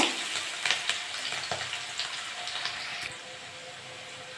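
Chopped onion and green chili frying in hot oil for chowmein, a steady close sizzle with crackling spits, loudest early and easing slightly after three seconds.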